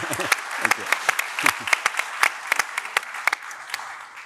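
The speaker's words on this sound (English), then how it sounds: "I think that requires a round of applause" A small conference audience at an energy-saving proptech summit gives a round of applause, sparse distinct handclaps in an uneven patter with a voice cheering briefly over it.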